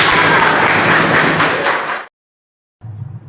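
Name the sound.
applause from audience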